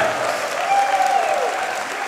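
A wrestling crowd applauds and cheers a decision, sustained clapping and crowd noise at steady volume with a faint voice rising over it.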